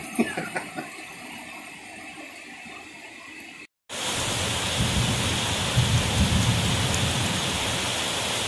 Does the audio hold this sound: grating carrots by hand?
no